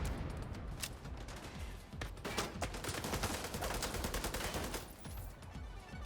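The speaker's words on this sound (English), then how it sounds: "Why is he shooting at me?" Rapid gunfire in The Division 2 video game, Dark Zone and Conflict modes, with dense bursts of automatic shots crackling continuously and loudly across the whole stretch.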